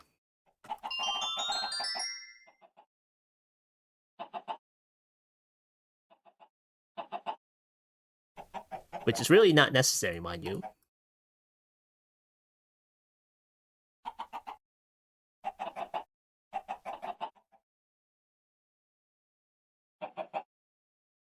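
Chickens in the FTB StoneBlock 4 game cluck in short, separate bursts at intervals between quiet gaps, with a brief louder rising call near the start and one dense noisy burst midway. Someone speaks briefly.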